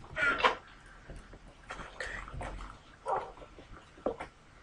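A Minecraft dog whimpering and yipping in short, high, plaintive cries, several separate bursts spread across the moment, fairly close and clear with faint background hum.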